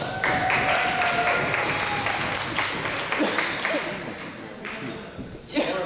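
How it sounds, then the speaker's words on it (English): A small audience claps in a round of applause for a performer on a small stage, fairly loud at first and then tapering, with a voice talking over the clapping. "Let's give her a round of applause"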